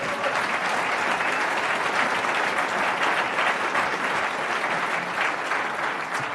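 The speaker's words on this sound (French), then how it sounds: "on l'applaudit" An audience at a UPR round table, autumn 2017, applauding a speaker being introduced, with dense, sustained clapping from a crowd that stays loud and even throughout.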